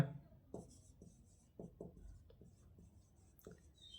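A pen writes notes on paper during a university math lecture, with soft intermittent scratching strokes and pauses, close and quiet, no voices.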